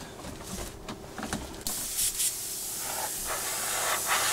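Quiet rustling gives way to an airbrush abruptly hissing on at about 30 psi, spraying paint onto a 1/48 scale de Havilland Sea Vixen model aircraft in a steady, close, continuous stream.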